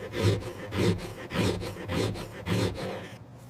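Leather pieces being smoothed by hand in a leather goods factory: about six steady, rhythmic rasping rub strokes, close and fairly loud, with no talking.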